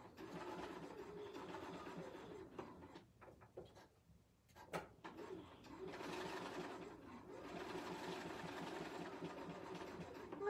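A Bernina sewing machine runs in fast, steady stitching bursts, pausing briefly near the middle before picking up again, close and fairly loud with faint mechanical clicks.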